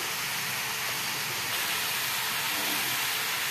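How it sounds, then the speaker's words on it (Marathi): Shredded cabbage sizzles and hisses steadily in a hot pan while being stirred for a Marathi-style cabbage sabzi, a continuous close frying hiss with no talk. "पत्ता गोबीला छान हलवून घ्यायचं"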